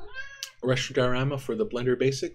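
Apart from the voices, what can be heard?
cat meowing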